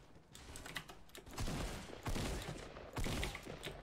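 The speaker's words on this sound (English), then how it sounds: "Tell me how many shots I just hit in a row right there" Quiet bursts of rapid gunfire in Fortnite come in clustered volleys, several shots fired in a row, each cluster sharp and fairly distant with brief gaps between them; no talking.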